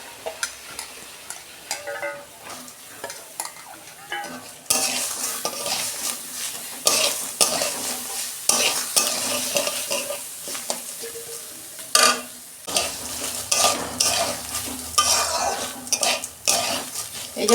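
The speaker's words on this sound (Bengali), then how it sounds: "মটর ডালটাও দিয়ে আমি একটু নেড়ে নিচ্ছি" A spoon stirs moong and matar dal dry-roasting in a pan, scraping and rattling steadily with a faint sizzle, close and fairly loud with no voices.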